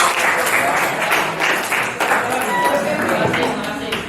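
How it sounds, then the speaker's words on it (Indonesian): Students in a classroom applaud, a dense, loud patter of many hands clapping close by, with a burst of livelier beats in the middle and voices mixed under it. "Tepuk tangan untuk kalian semua."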